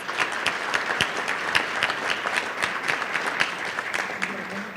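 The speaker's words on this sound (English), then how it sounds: "And a round of applause for Lewis." An audience at a school awards salute applauds for the full stretch, a dense, steady round of clapping from many hands in a large room.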